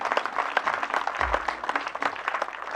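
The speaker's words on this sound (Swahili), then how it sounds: "Tupigie Bwana Yesu makofi" A memorial service congregation claps in praise of Jesus, a lively, fairly close round of hand-clapping that fills the room with a brief low thump partway through.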